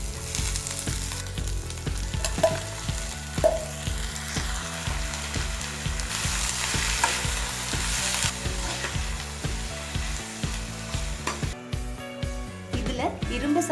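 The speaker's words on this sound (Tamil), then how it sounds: "முருங்கைக்கீரையை போட்டு வதக்கிக்கலாம்." Drumstick leaves sauté with onions and green chillies in a hot pan, giving a steady, close sizzle and frying hiss broken by scraping stirs. A voice talks over the cooking.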